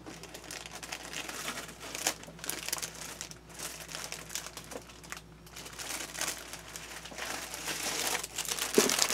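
A sheet of handmade A3 Khadi paper from South India, made of 100% recycled cotton rag, gelatin sized and acid free, crinkles and rustles as hands move it. The sound is close and continuous, with brief sharper crackles and no talk.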